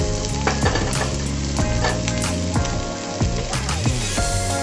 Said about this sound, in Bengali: তেল গরম হয়ে গেছে, কেটে রাখা পেঁয়াজগুলো দিয়ে দিলাম।